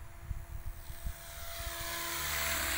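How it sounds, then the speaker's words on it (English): Small remote-control M4 helicopter hovering and drifting outdoors, a thin whirring rotor whine that swells and grows steadier, fairly faint, with no voices. "showing the beauty of this heli in some smooth movements, floating it around in the air"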